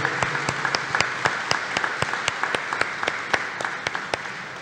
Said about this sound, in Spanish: un fuerte aplauso de felicitación para ustedes y todas las mamás